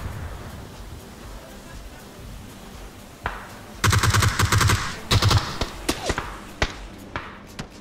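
Gunfire in PUBG: after a quieter stretch with a single shot, rapid bursts of automatic fire ring out loud and near, followed by scattered single shots.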